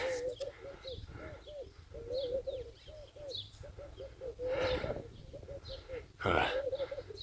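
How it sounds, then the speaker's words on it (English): Mousebirds call from a tree during an outdoor run, repeated soft cooing and chirping notes at close to moderate distance, with breathing and movement noises mixed in. "Here we have some mouse birds in the tree."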